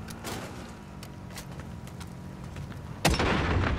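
A sudden loud boom of a car exploding in Call of Duty: Modern Warfare bursts near the end, following a stretch of low rumbling and scattered distant pops.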